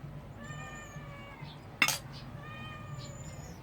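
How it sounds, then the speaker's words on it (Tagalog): A cat meows several times, drawn-out tonal cries with a sharp clink partway through, against a low background hum. "Maingay yung pusa ko."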